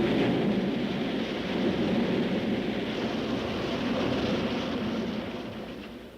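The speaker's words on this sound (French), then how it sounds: "une grande tempête déferla sur l'île." A heavy thunderstorm lashes remote Clipperton Island, a fragile Pacific atoll: a dense, steady roar of rain with deep rumbling thunder rolling underneath, loud and continuous before easing slightly at the end.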